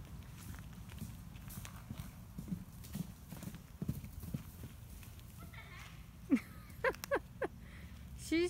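A ridden mule walks with steady clip-clop hoof beats that run through the whole stretch, joined by a few sharper, louder steps near the end, with faint background noise and a voice now and then.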